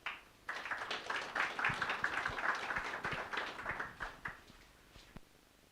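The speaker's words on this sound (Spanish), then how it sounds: "Recibimos con un fuerte aplauso" Church congregation at a Sunday service applauding loudly together, a dense steady clapping that swells and then tapers off over several seconds.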